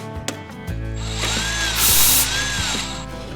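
An inexpensive Harbor Freight electric drill boring holes whirs up and runs steadily with a rising whine, close by, after a few short clicks.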